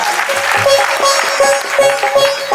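Audience claps along at a Navratri jagaran devotional bhajan event in Ara, a brisk, close, rhythmic patter of hands with steady intensity throughout the short stretch.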